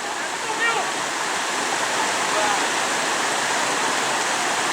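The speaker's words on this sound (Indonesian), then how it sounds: "Airnya ngalirnya kemari nih" River water flows at a riverside campsite in Jantho, Aceh Besar, as a steady, dense rushing hiss that holds even and fairly close throughout.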